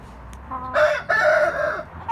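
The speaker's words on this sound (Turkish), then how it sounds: "sanırım orada bir kavga dövüş var. Hintler birbirine girmiş." Loud squawks and clucks burst out as turkeys fight, two quick, agitated bouts close by, with a short pause between them.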